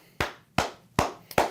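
Four sharp hand claps from one person close by, slow and evenly spaced, with a quick extra clap just before the last one, each ringing briefly in a quiet room.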